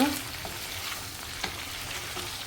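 Plain unspiced chicken pieces frying in a pan, a soft steady sizzle with a few stirring scrapes and clinks, fairly quiet and close, no voices.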